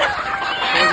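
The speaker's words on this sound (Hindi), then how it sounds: "एक पकड़ा गया है मुर्गा हमारा" A brief burst of desi rooster clucking in a village, close and fairly loud, with a busy outdoor background.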